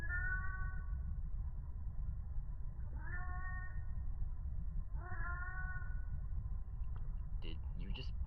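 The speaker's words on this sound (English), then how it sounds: "he can finally hear the cat" A cat meows in The Mandela Catalogue horror series, three drawn-out cries spaced a couple of seconds apart over a steady low rumble, fairly faint, with a few small clicks near the end.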